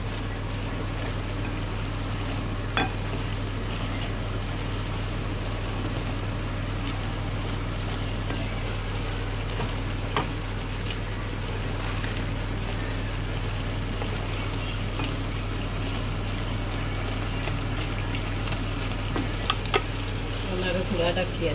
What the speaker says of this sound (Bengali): কচু লাড়িয়া দিয়া